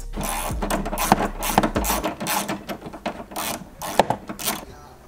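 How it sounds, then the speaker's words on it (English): A ratchet wrench loosens the rear seat bolts inside a Fiat 500 Abarth during a rear seat removal, with quick repeated clicking bursts and metallic clatter up close. "But let's go ahead and start unbolting this, because I do need to get that unbolted."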